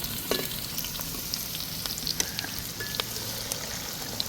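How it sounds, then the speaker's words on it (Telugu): Sliced onions fry in oil in a pan, a steady close sizzle with scattered crackles and pops and light stirring, with no talk. "ఈ ఆనియన్స్ గోల్డెన్ బ్రౌన్ కలర్ వచ్చే వరకు ఫ్రై చేసుకోవాలి."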